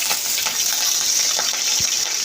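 Curry leaves and rampe frying in a pan give a loud, dense, continuous hiss and crackle, close by, with one soft dull knock near the end and no speech.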